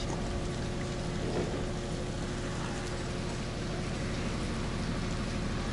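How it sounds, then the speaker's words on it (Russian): Rain pours during a thunderstorm over a village in Puttaparthi, India, a faint, steady, uniform hiss with no pauses and no voices. "Ну, шум дождя слышу."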